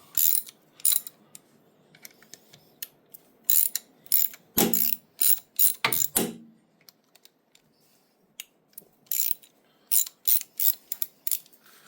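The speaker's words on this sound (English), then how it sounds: "So I'm going to start with the cam plate bolts" Short spurts of close, crisp ratchet clicking come from loosening the cam plate bolts on a Harley-Davidson Twin Cam engine during cam bearing replacement, with quiet pauses between the bursts and no one speaking.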